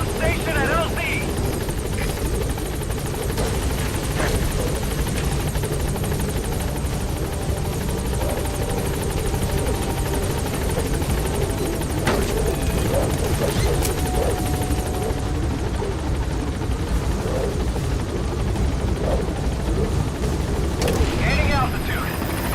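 A helicopter in the Metal Gear Solid V video game arrives at a landing zone, its rotor drone loud and steady throughout, mixed with game effects and occasional voice.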